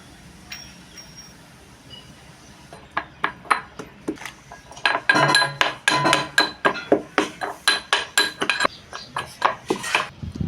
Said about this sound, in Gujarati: આદુ અને મરચાંને આપણે ખાંડી નાખવાનું છે લસણ ખાંડવાનું છે